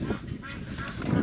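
Roughly 28 ducks inside a mobile duck house honk and quack loudly and close up, overlapping calls stacking on one another without a break.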